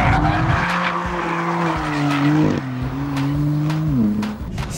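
Tyres of a BMW M4 sports car squeal loudly in a long, wavering skid over a roaring engine, the pitch dipping and rising as the car slides.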